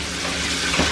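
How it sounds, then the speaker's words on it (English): Beef stew poured from a batch into a non-stick pan, a brief steady liquid gush close by with a soft splash near the end. "I'm gonna pour all the rest of the second batch into this"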